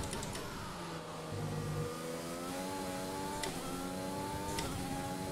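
A Williams Formula 1 car engine in an F1 racing video game whines through rising gear changes, a steady, moderately loud high-pitched drone with brief shift clicks and no speech.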